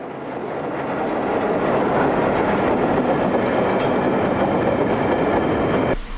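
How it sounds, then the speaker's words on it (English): Loaded coal and grain freight trains roll past near Toowoomba with a steady, loud rumble and faint clickety-clack of wheels on rails, holding a constant level before ending abruptly. "Loaded coal and grain trains arrive in Toowoomba from a range of locations."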